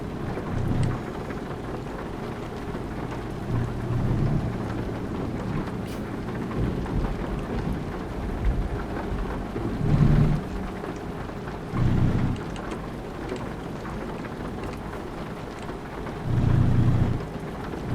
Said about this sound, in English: Get a little bit of rain here too.